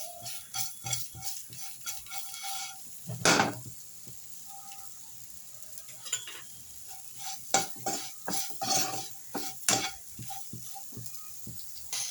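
Bitter gourd sizzles in a frying pan while being stirred, with repeated scraping and clinking strokes of a utensil against the pan over a soft frying hiss, close up and without talk.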